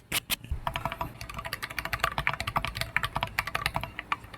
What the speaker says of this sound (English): How about let's listen to the peace lilies